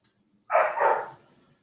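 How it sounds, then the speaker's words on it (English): A single bark, then a short whine, from a dog upstairs, muffled and moderately distant after a brief silence. "my dog's acting up"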